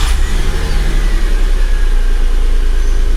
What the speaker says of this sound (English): I'll start the car again to show you now